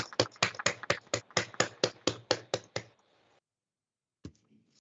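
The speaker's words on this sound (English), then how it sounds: "so that we can give you a hearty round of applause for this accomplishment" Appellate court judges on a live stream clap over open microphones: a quick, even run of about a dozen sharp, close claps, then a pause and one last lone clap.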